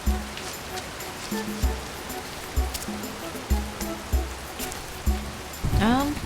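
A steady wash of rushing water from a waterfall in the game Candle runs under a regular rhythmic thumping pattern and game sounds, with a swooping tone near the end.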